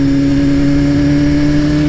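A motorcycle engine runs loud and close, holding a steady, even drone throughout with no speech.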